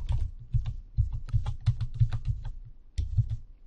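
A password being typed on a computer keyboard: quick, close, irregular clicks of keys in short bursts, with a brief pause before a final cluster of taps.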